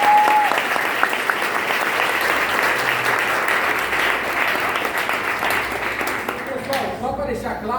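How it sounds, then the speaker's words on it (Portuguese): A classroom group gives a loud, sustained round of applause for a student project presentation. The clapping is dense and steady, then tapers off near the end as voices start to come through. "salve de palmas"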